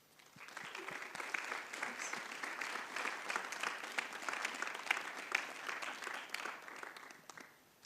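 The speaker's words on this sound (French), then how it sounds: "Et on les applaudit bien fort, évidemment." Audience at a round-table event applauding prize winners, a crowd of hands clapping that swells in, holds steady for several seconds, then fades at the end.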